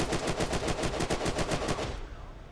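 Sustained machine gun fire in Unturned, a loud, steady rapid string of about fifteen close shots that stops abruptly, leaving a brief fading tail.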